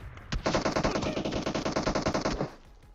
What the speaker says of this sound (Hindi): ये लोग न जाने कहां कहां से गोलियां पेल रहे हैं